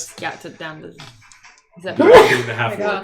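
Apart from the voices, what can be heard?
sneeze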